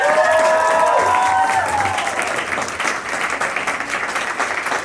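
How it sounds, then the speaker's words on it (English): Loud, continuous applause and cheering from a crowd at a school celebration honoring Providence, Rhode Island's teacher of the year, with a few whoops early on before the clapping settles into a steady wash. "big round of applause"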